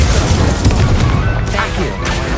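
A fire spell is cast in a wizard-themed video game, producing a loud, dense whooshing blast with rumbling booms and crackling bursts filling the space, with a voice partly audible among the effects.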